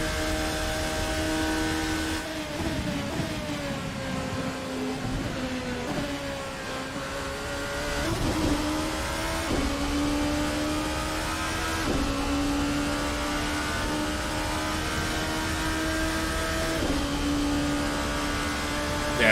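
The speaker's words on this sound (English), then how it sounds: "This car sounds brilliant." A P1 prototype race car in the Assetto Corsa video game at the 4 Hours of Daytona screams through repeated rising and falling revs as it shifts through gears, loud and continuous for the whole stretch, with no talking.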